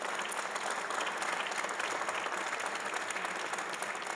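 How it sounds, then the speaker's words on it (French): A crowd applauds at the inauguration of a sports centre in Mont-Tremblant, with sustained, even clapping that stays loud and dense from start to finish. "je vous invite à applaudir pour cette belle inauguration"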